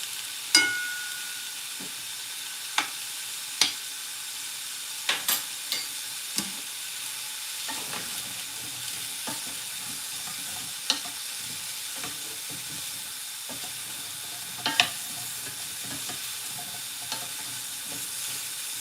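Apples cooking in a pan, a soft steady sizzle with occasional sharp clicks and taps of a utensil against the pan, close and quiet with no voices.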